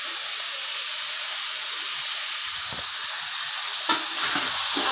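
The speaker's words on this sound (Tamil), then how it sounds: "பச்சை வாசனை போகிற வரைக்கும் நம்ம நல்லா வதக்கலாம்" Chopped tomatoes sizzle and hiss steadily in a hot pan while being sautéed for a mutton soup, a continuous bright frying noise with occasional soft stirring scrapes and no talk.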